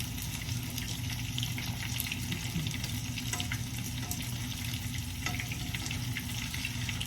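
Potato bites with cheese and chives frying in a pan after being flipped, a dense, steady sizzle and crackle that stays even throughout with no talk.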